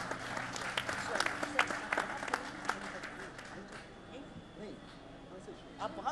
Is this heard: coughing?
no